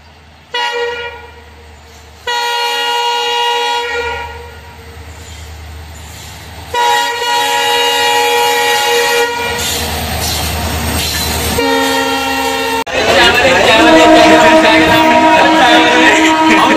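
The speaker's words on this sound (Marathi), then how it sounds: "आता आपण ट्रेनमध्ये बघू शकता" A passenger train rolls toward Chandrapur in Maharashtra with loud, steady rumbling and clatter, while long horn blasts sound repeatedly and the noise grows rougher and louder near the end.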